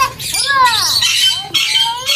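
A pet Fischer's lovebird gives shrill, rapid squawks up close, loud and continuous in two bursts with a brief dip between them.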